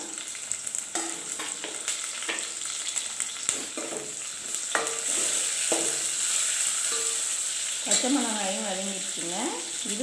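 Small shallots and crushed green chillies fry in hot oil with a continuous close sizzle, broken by spoon scrapes and stirring, while a person talks over the frying.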